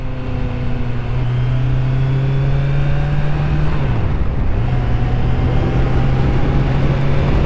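A Kawasaki Z900 litre-class motorcycle being ridden, its engine droning loud and close with steady road and wind roar; the pitch holds level, drops briefly mid-ride as if shifting, then settles again.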